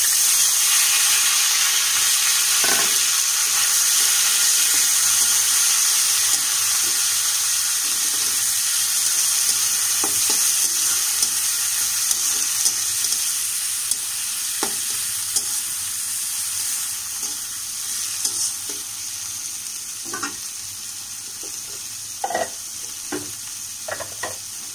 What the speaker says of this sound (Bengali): এরপর আমি করলাটা দিয়ে দিলাম।